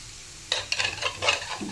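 Eggs being stirred together with Maggi noodles, a few quick wet scraping and mixing strokes in a bowl, close and clear with no speech.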